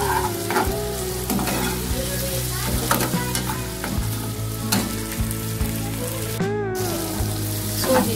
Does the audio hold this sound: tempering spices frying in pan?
yes